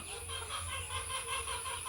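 Soft, faint clucking of country hens at their coop, a few low repeated calls, over a steady background hiss.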